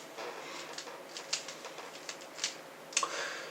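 Quick plastic clicks of a 3x3 Rubik's cube being turned through a short algorithm, a string of light, close snaps at uneven intervals with no talk over them.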